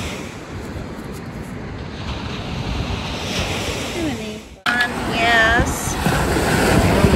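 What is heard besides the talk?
ocean waves breaking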